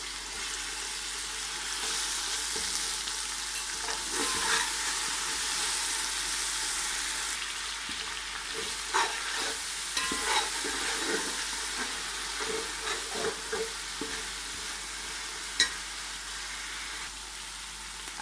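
Tomato paste and crushed red chilli frying in a pot for beef pulao, a steady broadband sizzle running throughout, with occasional stirring scrapes and small pops toward the end; no talking.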